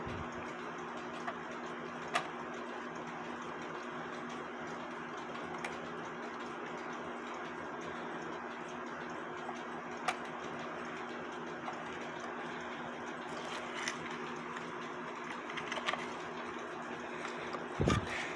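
A hunter's cuckoo clock under repair runs through a function test, its faint, steady ticking sitting low beneath a constant room hum, with no one speaking.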